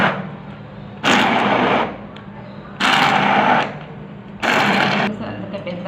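A kitchen grinder whirs loudly in three separate bursts, each lasting under a second or so, as cooked chicken is ground up close, with quiet pauses between the runs.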